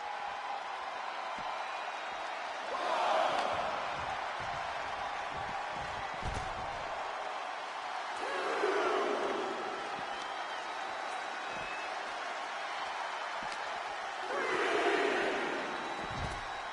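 Arena crowd in the wrestling video game WWE 2K25 cheering in three swelling waves over a steady roar of crowd noise, with someone commentating over it.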